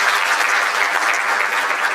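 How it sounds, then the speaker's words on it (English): Audience at a mental wellness and counselling conference applauds, a dense, steady wash of many hands clapping at close range and even loudness throughout. "round of applause for you"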